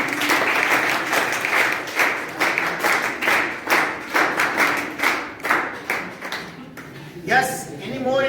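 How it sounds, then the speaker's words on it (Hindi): An audience applauds for a young boy at a Hindi-language gathering, a dense wash of claps that swells into rhythmic unison clapping before fading as a voice starts speaking near the end. "भगवान कृष्ण जी के लिए तालियां बजाएं भैया"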